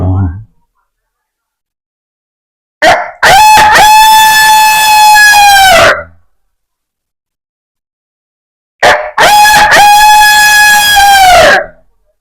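A person imitates a rooster's crow twice: two loud, drawn-out calls separated by a pause of silence.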